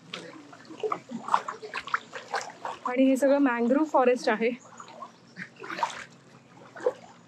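Clear water runs steadily beside a mangrove forest on the way to a beach, a continuous wash in the background beneath close conversation.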